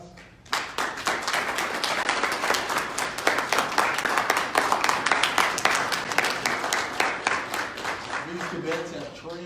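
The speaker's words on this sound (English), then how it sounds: "We want to recognize them and give them a round of applause." An audience applauds JROTC cadets at an Army JROTC military awards ceremony, a dense burst of clapping starting abruptly and holding steady close by, then tapering as a voice begins speaking near the end.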